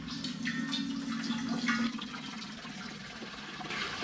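Clean water poured into a brew pot for a one-gallon batch of raspberry golden ale, a steady continuous splashing fill heard up close, with no talking.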